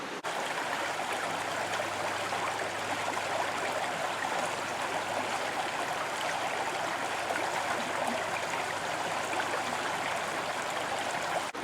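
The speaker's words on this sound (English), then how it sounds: "I am right next to my creek, where I call it the rapids," Creek water rushes steadily over rocks, a constant close hiss and babble with no other sounds.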